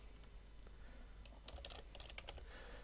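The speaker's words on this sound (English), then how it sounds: "So while it's selected, all I have to do is start typing." Keys tapped on a computer keyboard while text is entered into a selected shape in PowerPoint, a quick irregular run of close, light clicks over a faint steady hum.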